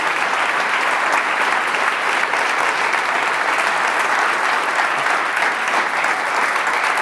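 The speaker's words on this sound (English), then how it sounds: "I'd like you to clap with me to thank them and thank everybody who's been part of the community" A RubyConf conference audience claps in thanks, a loud, even roar of applause from a large hall that holds steady without pause.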